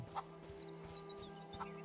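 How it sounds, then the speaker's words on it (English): Two short, soft clucks from chickens in the video game A Plague Tale: Innocence amid a faint steady hum and light background noise, quiet and sparse. "these are the chickens."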